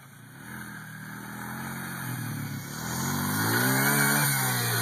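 A four-wheeler ATV engine revs steadily and climbs in pitch toward the end, loud and close, running alone without talk.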